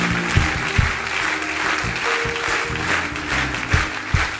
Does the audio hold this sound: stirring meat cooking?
no